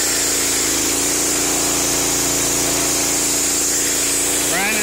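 A pressure washer rigged as a wet sandblaster runs with a steady, loud hissing spray and an engine drone underneath, continuous throughout, with voices in the background.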